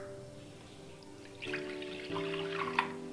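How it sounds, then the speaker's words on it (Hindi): Water is poured into a bowl of yogurt and gram flour (besan) for kadhi, giving a soft, close splash and trickle that begins partway through over a faint background hum. "इसमें हम थोड़ा पानी डालेंगे,"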